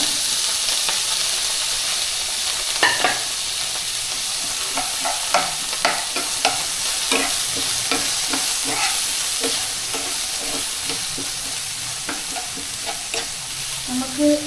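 Chopped onions fry in a pan with a constant soft sizzle, broken by frequent light taps and scrapes of a spoon stirring them. Heard up close, with no one talking.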